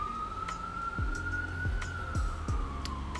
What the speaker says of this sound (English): And a siren as well.